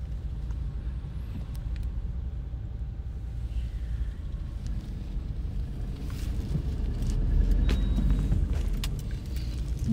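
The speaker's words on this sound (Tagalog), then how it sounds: "Traffic ulit, pero hindi naman masyado." Road traffic in Baguio City at dinnertime: a steady low engine rumble from passing cars, swelling louder around the middle as a vehicle passes close, with no talking.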